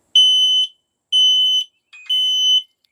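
An X-Sense XS01-M smart mini smoke detector under test sounds its alarm: three loud, piercing high-pitched beeps of about half a second each, evenly spaced and close by, with no talking.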